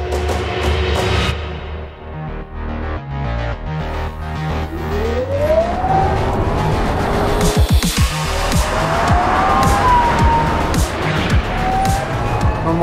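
Rimac Nevera electric race car roars and whines on a track during a shakedown, pitch rising and falling as it passes, with a few tire squeals near the end.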